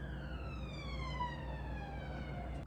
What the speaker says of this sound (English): that was a weird siren.